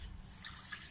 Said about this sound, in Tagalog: Ito, lalagyan ko muna ng tubig.